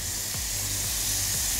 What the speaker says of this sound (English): Oh, I love the sound of the sizzle.